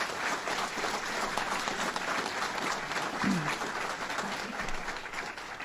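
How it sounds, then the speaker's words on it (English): An audience at a Salamanca event with the Governor and a senator breaks into a steady, sustained round of applause, a dense wash of clapping that fills the whole stretch with no break. "Let's give them a round of applause."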